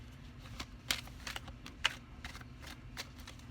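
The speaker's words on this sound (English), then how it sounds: "I just want to shuffle the cards" Tarot cards are shuffled by hand in a quiet room, a soft run of crisp riffling snaps and papery slides with a couple of sharper clicks, close and low in level.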